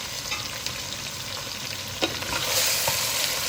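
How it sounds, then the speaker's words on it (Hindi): Whole chilli, cumin and coriander seeds fry in hot oil for biryani, giving a close, steady sizzle. A few spoon scrapes and stirs break through, and the frying grows louder near the end. "थोड़ा भून लेंगे हम।"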